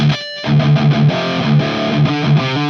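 An electric guitar plays through the distortion channel of a Marshall Valvestate 8100 amp with the treble turned fully down, giving a loud, dark, saturated tone in a rhythmic run of chugging chords with a brief gap near the start.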